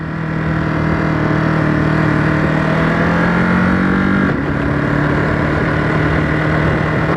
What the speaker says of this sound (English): Quick shifter there, first to second gear, pretty smooth.